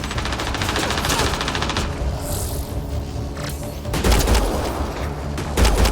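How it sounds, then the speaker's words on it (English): Rapid automatic gunfire rattles continuously in a Mass Effect Andromeda battle, close and loud, with heavier bursts and impacts near the end. "Just keep firing, we can do this!"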